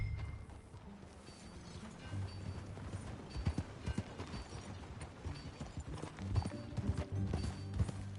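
Horse hooves clip-clop steadily at a riding pace in the video game Red Dead Redemption 2, with a continuous rhythmic thudding over outdoor game ambience and no talking.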